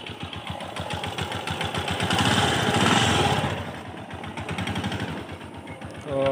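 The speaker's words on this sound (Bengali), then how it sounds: "এত স্মুথ সাউন্ড এটার।" A modified CG motorcycle engine idles with a steady, smooth, even putter that swells slightly louder midway, heard up close with no talking.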